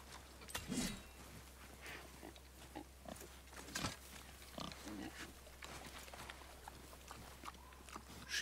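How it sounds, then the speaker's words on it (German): Wild boar grunting in the God of War video game, a few low snorts and grunts at moderate distance over quiet game ambience, with a voice talking at times. "Das hört sich ja nach einem Wildschwein an"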